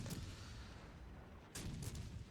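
München cruiser guns firing in World of Warships: Legends, a game: faint, distant booming volleys, one near the start and a pair of sharper reports toward the end, over a low rumbling background.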